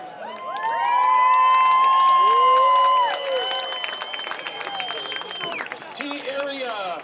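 A crowd at a high school varsity football game roars and cheers loudly, with sustained whistles and shouts swelling over the first three seconds, then settling into a steadier, busy din of voices.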